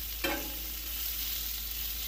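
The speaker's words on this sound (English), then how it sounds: "that flavor is getting seared into the grill top right now" Pancake batter and food sear on a Blackstone griddle top at a breakfast cook, giving a steady broadband sizzle throughout with a brief louder splash of contact near the start.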